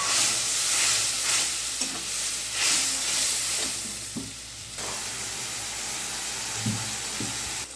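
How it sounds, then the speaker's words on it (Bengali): Spice paste of cashew and poppy seed with a little water frying in a pan for Bengali dhokar dalna, a steady sizzle with several scraping stirs of the spoon at intervals. "পোস্ত বাটাটা, অল্প জল দিয়ে মশলাটা ভালো করে কষিয়ে নিই।"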